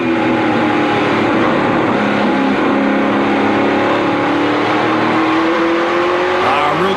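Onboard engine roar from a Chevrolet race truck in a NASCAR Truck Series event, loud and continuous, the pitch dipping low in a slow corner then climbing steadily as it accelerates down the straightaway, with a voice faintly underneath.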